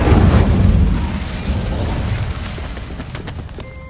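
A fire spell cast in the Hogwarts Legacy video game, a loud whooshing burst with low rumble that flares at the start and then fades into a softer crackling tail, with no one talking.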